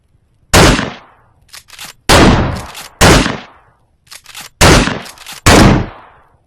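A tactical shotgun fires five heavy, close blasts in the VR horror game Maleficence, made in Unreal Engine 5. Each boom decays quickly, and faint mechanical clicks fall between the shots.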